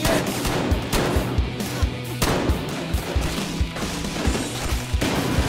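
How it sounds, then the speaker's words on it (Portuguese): Rapid bursts of gunfire from the Battlefield Hardline video game, loud repeated shots and crashes in an uneven rhythm, with near-constant battle noise between them. "olha os tiros"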